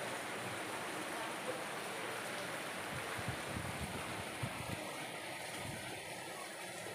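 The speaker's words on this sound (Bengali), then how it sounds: "খুব সুন্দর একটা বৃষ্টি নেমেছে" Heavy rain pours outdoors over standing water, a steady broad wash of noise with low rumbling underneath, fairly faint and heard without talk.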